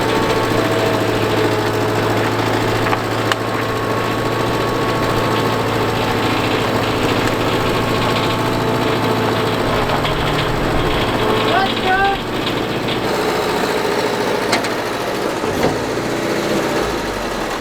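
An El Camino engine idles steadily after a choke start, a low continuous rumble with slight vibration throughout, heard near, with people talking over it.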